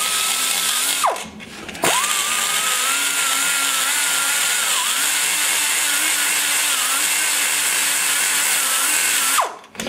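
A carbide burr on a high-speed die grinder whines steadily while shaping the intake port of a Chevy 186 cylinder head, pitch dipping and wavering under load, with a brief stop and restart early and a spin-down at the end.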